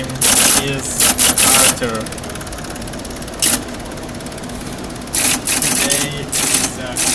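Hello world being typed on a computer keyboard, heard as loud, clattering mechanical bursts in several uneven runs separated by quieter gaps, with a person talking between them.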